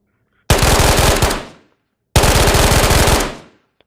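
Two loud, close bursts of rapid automatic fire from an unsuppressed M2 gun in the Ghost of Tabor video game, each lasting about a second before ringing off, separated by a short pause.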